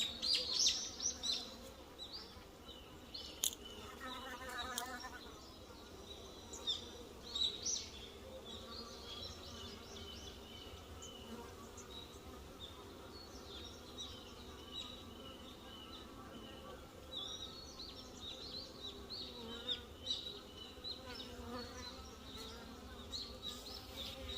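Honeybees buzz steadily and densely around an open hive as a frame with drones is inspected, a continuous close hum lasting the whole stretch with small swells as bees fly past.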